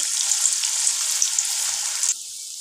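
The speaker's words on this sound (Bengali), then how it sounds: "এবার আমি এগুলোকে ভেজে নেব, পকোড়াগুলোকে।" Spinach pakoras frying in a good amount of hot oil, a steady close hiss of bubbling oil that drops to a softer sizzle near the end, with no talking.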